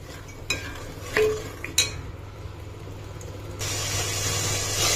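Green chicken masala being stirred and fried in a pan: scraping spoon clinks and pan knocks over a steady low frying hiss, with the hiss growing brighter and louder near the end.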